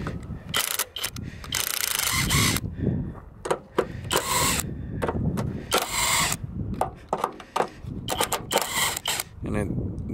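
A cordless impact ratchet with a 14 mm socket working on car suspension components, loud bursts of rapid mechanical rattling separated by short pauses and clicks, with someone talking between runs.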